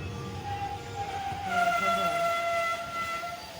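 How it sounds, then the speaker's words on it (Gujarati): A train pulls out of the old Khijadiya junction railway station, giving a steady rumbling roll with a sustained horn-like tone rising partway through, heard at moderate distance without clear talking. "ટ્રેન ઉપડી ગઈ છે મિત્રો, તમે જોઈ શકો છો ખીજડીયા ટ્રેન ઉપડી ગઈ છે."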